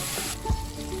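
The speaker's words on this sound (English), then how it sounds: "we'll add diced and washed pumpkin. We are going to saute this for a minute" Diced, washed pumpkin with asafoetida sautés in a pan, making a brief, faint sizzle with a soft thump partway through.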